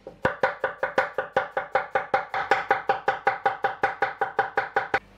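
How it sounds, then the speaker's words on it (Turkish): Vegetables are chopped into small pieces with a knife on a cutting board for an osso buco braise, giving a steady, rapid run of about twenty crisp, close knocks with no talking. "ben sebzeleri küçük küçük doğrayacağım bugün"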